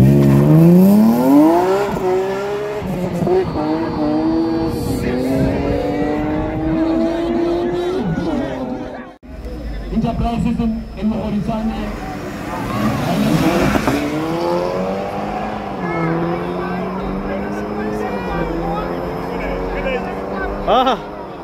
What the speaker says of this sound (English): E46 M3 motor with the supercharger.